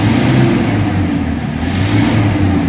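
A Toyota Fortuner engine with a fault causing low power and loss of compression runs steadily at about 1000 rpm, a loud, close, low droning hum with a slight wavering pulse.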